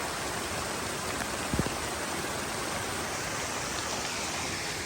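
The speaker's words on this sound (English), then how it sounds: "There's a waterfall." A waterfall on a trail, a constant loud broadband rush of falling water filling the whole clip, with a brief low thump partway through.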